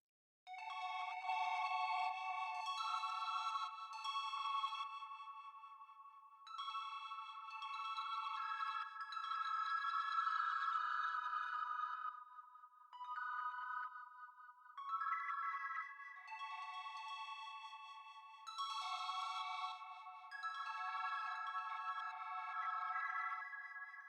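Warbling, tonal electronic phrases processed by the Backmask plugin in random reverse mode, with a strange backwards-swelling quality, playing continuously in bursts with short gaps, clean and fairly loud.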